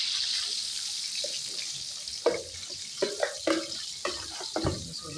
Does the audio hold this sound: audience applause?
no